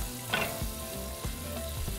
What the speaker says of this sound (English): to our frying pan, we're going to add 3 more tablespoons of butter, and we're just going to melt it